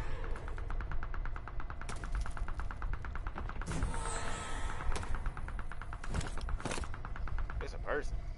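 Gunshots from the video game Rainy Dayz, a rapid run of sharp cracks followed by a few scattered louder shots, over a low hum and faint background voices.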